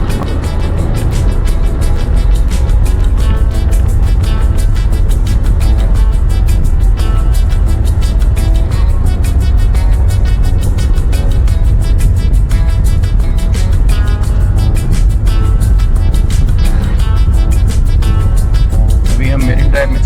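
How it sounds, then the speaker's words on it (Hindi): A car drives along Marine Drive beside the Kelo River in Raigarh, its steady loud road rumble and engine noise continuous throughout, with a voice talking over it. "एक तरफ हमारी गाड़ी चल रही है, दूसरी तरफ दूसरी गाड़ी है।"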